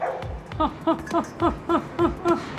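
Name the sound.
dog at an animal shelter barking at feeding time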